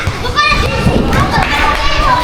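Children play close by, with excited young voices calling and chattering over one another and a few light thumps among the lively noise.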